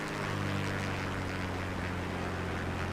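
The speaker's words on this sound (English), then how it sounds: "I better cut the engine down" A Beechcraft aircraft engine in Microsoft Flight Simulator 2024 is throttled down, a steady low droning hum with a continuous even tone and no talk over it.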